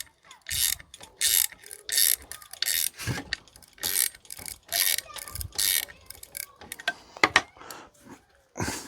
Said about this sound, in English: that'll pull them coach bolts through this wood enough where they won't protrude out the bottom